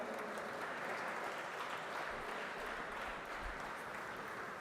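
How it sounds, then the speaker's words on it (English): Steady, dense applause from an audience at a student parliament event's clarion call ceremony, a continuous wash of many hands clapping at even loudness throughout, with no voices over it. "A big round of applause once again."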